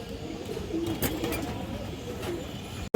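Black-necked pigeons cooing at a pigeon farm, a soft steady murmur of coos running continuously under broadband farmyard background noise.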